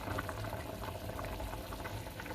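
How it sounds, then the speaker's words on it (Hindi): Water boiling in a pot for chana pulao, a steady dense bubbling and hissing with a low rumble, continuous and fairly quiet throughout, with no voices. "तो पानी हमारा बॉयल हो रहा है।"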